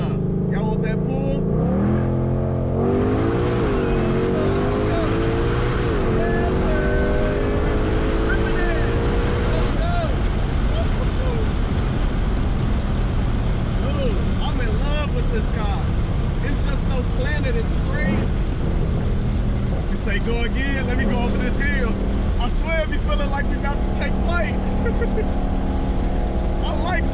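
2021 Ford Mustang Shelby GT500 engine accelerating hard, a loud rising roar with climbing revs and gear changes, followed by road and wind noise as it keeps pulling, while people talk over it.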